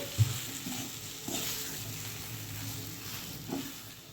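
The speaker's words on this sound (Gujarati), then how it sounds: "હવે આપણે બધું સરસ રીતે મિક્સ કરી લઈએ." Spiced vada pav potato filling is stirred in a hot pan, with a steady frying sizzle and a few sharper spoon scrapes against the pan, close and without talk.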